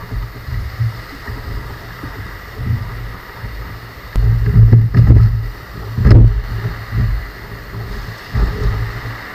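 Ocean waves slap and wash against a kayak, low rolling splashes rising in two or three louder surges over a steady background rush of water and wind.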